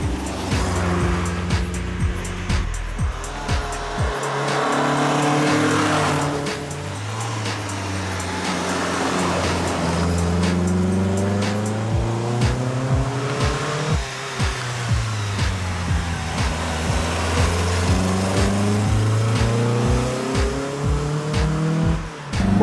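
A Lancia Fulvia 1300S on a road test drive, its engine revving up and down through repeated gear changes, close and loud from inside, with rising and falling pitch over about twenty seconds and no talk.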